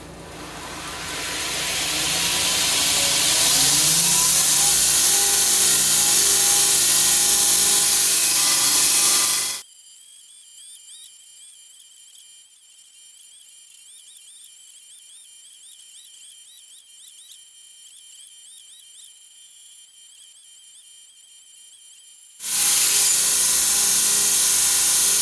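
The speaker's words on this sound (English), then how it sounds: "before we start the forge back up, we're gonna grind this to shape" Steady, loud abrasive grinding on a forged steel boar spear point being shaped, holding for several seconds, then cutting out into a quiet stretch with only faint background hum before the grinder roars back at full volume.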